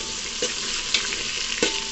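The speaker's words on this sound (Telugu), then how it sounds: "ముందుగా పచ్చిమిర్చి, ఉల్లిపాయ ఇవి ఎర్రగా వేగేంతవరకు ఉంచుదామండి." Green chillies and onions frying in hot oil, a continuous close sizzle broken by a few brief stirring scrapes, with no talking.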